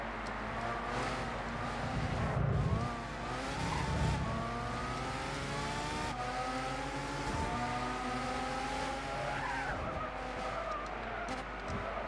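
A Ferrari 458 engine strains near and loud in Gran Turismo 6 one-make racing, revving through rising and falling gear sweeps with bursts of skidding tire squeal as the rear-wheel-drive car slides.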